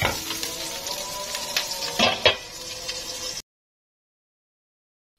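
A large burger meat patty frying in a pan sizzles under occasional clinks of a utensil against the pan, then cuts off abruptly into silence.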